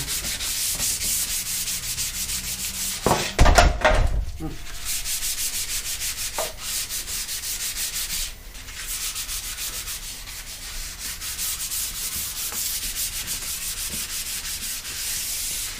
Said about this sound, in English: So I'll continue sanding this